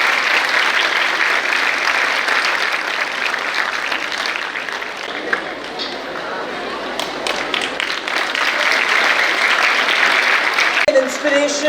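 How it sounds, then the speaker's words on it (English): A big hall audience gives sustained, loud applause for astronaut Group Captain Shubhanshu Shukla, with thick continuous clapping that dips slightly midway and swells again before fading into a voice at the end. "a huge round of applause again"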